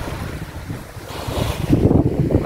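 Sea waves break and wash in against a breakwater on Saipan, a continuous rushing surge that swells louder toward the end, with strong wind buffeting the microphone throughout and no voices.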